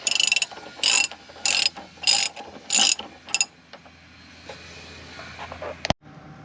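A ratchet loosens a shock absorber bolt on a Ram Promaster van, giving five loud, evenly spaced bursts of rapid clicking up close, then quieter scattered clicks and a sharp knock.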